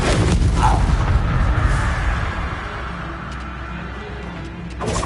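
Confringo blasting spell exploding in the Hogwarts Legacy video game: a heavy, booming blast at the start that rumbles and decays into a lingering low roar, with a faint crackle near the end.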